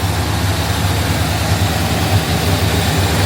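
A 1972 Chevrolet Custom C20 pickup's engine idles steadily and smoothly, a loud, close, low rumble with no voices over it.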